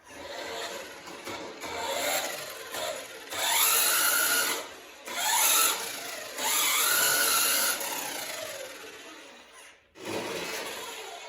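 A small RC toy car's electric motor runs in low gear, a whiny buzzing drone that rises and falls in several surges and cuts out briefly, close and fairly loud, with no speech.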